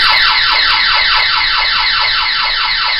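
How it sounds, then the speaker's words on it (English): A house intruder alarm sounds loud and continuous, a rapidly warbling electronic siren repeating its sweeping wail about four times a second, close and steady with no voices. "Now my house internal alarm's going off."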